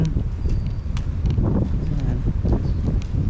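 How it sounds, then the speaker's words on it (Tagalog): Steady wind gusting across an open town plaza in Anda, Bohol, Philippines, with broad low rumble and microphone buffeting running continuously through the short stretch, no voices. "mahangin."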